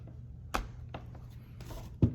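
A Lenovo Yoga 11e Gen 5 laptop lid is closed, giving a couple of sharp, close plastic clicks and taps, the last one a firmer thud, in an otherwise quiet room.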